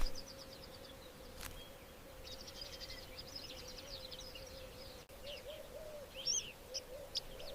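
Oxpeckers on a rhino in African grassland, giving faint, scattered chirps and quick twittering calls over a steady low hum, with a few brighter notes near the end.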